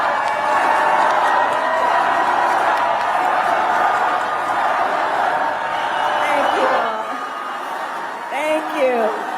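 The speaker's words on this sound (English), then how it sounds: "Harris comes to the stage, and the crowd is deafening" Rally crowd roaring and cheering as Kamala Harris takes the stage in Milwaukee, a dense, sustained wall of voices that eases slightly toward the end, with a few voices standing out.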